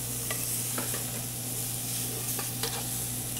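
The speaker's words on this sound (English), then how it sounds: "this is just going to be sautéed until the little pieces of sugar pumpkin are nice and tender" Small pieces of sugar pumpkin seasoned with fennel pollen, salt and pepper sauté in a pan, giving a steady close sizzle broken by a few sharp clicks of stirring, with a constant low hum underneath and no talking.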